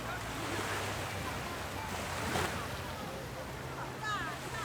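Sea waves wash onto a shore, a steady broad roar of surf with wind noise across the microphone, moderately loud throughout with a slight swell midway.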